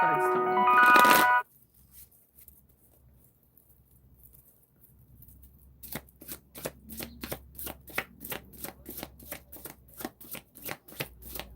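Tarot cards shuffle in a brief loud riffle, then after a quiet pause a long run of soft, even card taps and flicks follows in steady rhythm, close and fairly faint.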